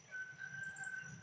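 Birds sing outdoors in a brief, faint burst, with a thin high trill over a soft steady tone and low background hum.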